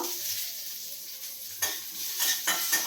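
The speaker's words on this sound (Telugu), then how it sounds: "ఇప్పుడు ఆవాలు వేసుకుంటున్నాను. ఆవాలు కొంచెం చిట్టుపట్లు ఆడాలి." Mustard seeds, cumin and curry leaves sizzle in hot oil, a close, bright frying hiss with sharp bursts of spattering and a few stirring scrapes from a utensil.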